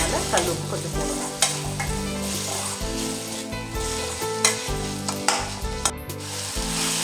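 Tomatoes with rock salt sauté in a pan for chicken gravy, giving a steady sizzle with occasional stirring scrapes under loud background music.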